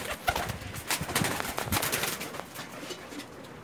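A pair of red-eyed kamagar pigeons coo close by in soft, repeated calls, with faint rustling between them.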